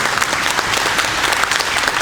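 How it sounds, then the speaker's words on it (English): Dense, steady applause from an audience at a casino and housing announcement, many hands clapping together at close range without letup. "let's have a round of applause for Ian and Rod in the trenches"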